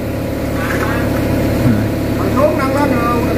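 A restored nine-year-old Sumi excavator's diesel engine idles with a steady, loud, low rumble, running evenly while people talk nearby.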